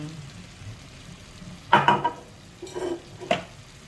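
Chicken fried rice with brown rice, cooked without vegetable oil, is stirred in a pan, with a few scraping, sizzling strokes of a utensil against the metal and quiet gaps between them.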